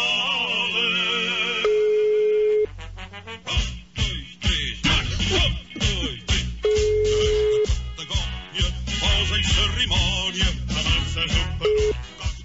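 A telephone dials and rings to place a call, with a steady tone, a run of rapid dialing beeps, then repeated ring tones in a regular pattern.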